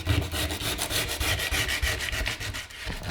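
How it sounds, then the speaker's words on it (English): Hand sanding of old wooden cottage windows, close and steady rhythmic rasping strokes of abrasive on wood with no talk. "I'm going to start sanding these windows"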